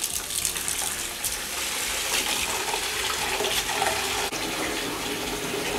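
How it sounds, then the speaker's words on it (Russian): Warm water pouring steadily into a container for watering orchids, a continuous splashing gush heard close up and fairly soft, without talk. "И наливаю обязательно теплой воды."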